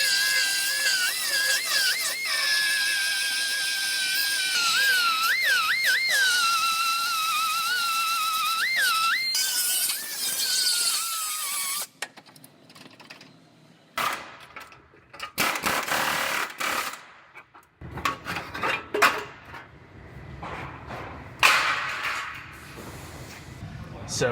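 A power cutting tool slices through the apron of a car frame in a body shop, giving a loud, steady high-pitched whine with pitch dips as it bites into the metal, then stopping, followed by scattered clanks and handling noises.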